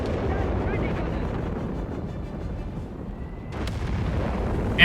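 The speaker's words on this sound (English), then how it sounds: "And we got artillery fire now trying to silence that Nebelwerfer." Artillery fire in the video game Company of Heroes 3, a dense rumbling barrage of low booms and blasts rolling continuously, with a sharper burst near the end.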